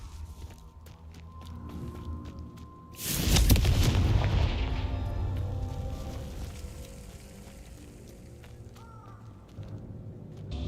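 A Confringo blasting spell goes off in Hogwarts Legacy, a sudden loud booming explosion that rolls out into a long rumbling tail fading over several seconds.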